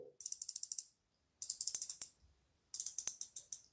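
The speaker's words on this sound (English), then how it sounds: "It comes with a rotating diverse bezel." Crisp ratcheting clicks from the rotating dive bezel of an Aquatrident carbon fiber watch come in three quick runs of tight, evenly spaced ticks, close and clear against silence.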